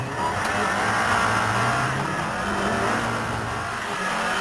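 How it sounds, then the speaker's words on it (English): A Lancia Delta Integrale rally car drives a tarmac rally stage, its engine note rising and falling as it accelerates through corners, loud and steady throughout without any speech. "Auricola having decided to use the handbrake more than Fiorio did"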